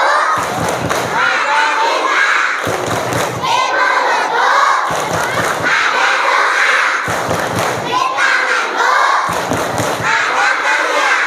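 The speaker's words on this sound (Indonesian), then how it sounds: "Yuk, tepuk sukses." A crowd of children at an Islamic storytelling road show performs a rhythmic clapping chant, with loud bursts of claps and shouted words repeating in regular cycles, separated by brief pauses.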